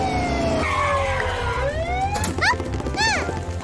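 A cartoon police car's siren wails over upbeat children's music, with rising and falling tones and a few quick whoops near the end.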